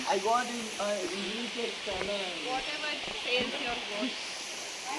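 Water pouring out of a tunnel and flowing away along a channel in Kerala, a steady close hiss of rushing water running beneath someone talking throughout.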